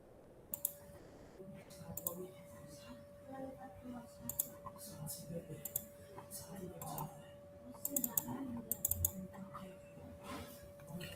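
Mouse clicks selecting constraints in CAD software: sparse, sharp, close clicks spaced irregularly over a faint steady hum and quiet background.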